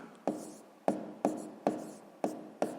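Pen strokes on paper come in six distinct scratchy bursts at an even, unhurried pace, each a short sharp scrape that fades quickly, close and quiet with no talk.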